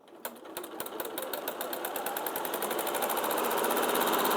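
A fast domestic sewing machine stitches a fabric bag, its rapid needle clatter building from a start into a quick, even, accelerating rhythm that stays close and clear with no talk.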